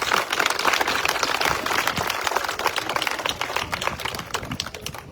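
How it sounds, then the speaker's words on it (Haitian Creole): A church congregation applauds at a Saint-Michel Archange parish ceremony for laying the first stone of the rebuilt church, with dense, steady clapping from many hands throughout. "On bat un gros bravo pour bon Dieu."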